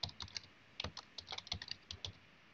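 Typing on a computer keyboard, entering a dashboard title in software, gives crisp, close key clicks in quick irregular bursts with short pauses between groups, heard alone.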